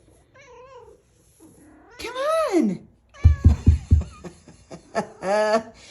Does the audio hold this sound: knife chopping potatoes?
no